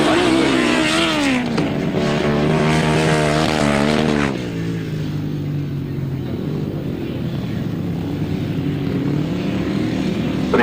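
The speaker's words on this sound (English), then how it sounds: "Billy Penfold coming up on the back wheel of Ron Jarvis" Grasstrack racing motorcycles at a Whitsun meeting, a loud close engine whine rising in pitch as a bike passes, then dropping to a steadier, lower drone as it moves off.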